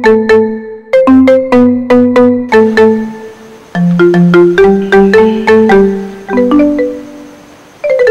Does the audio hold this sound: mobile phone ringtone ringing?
yes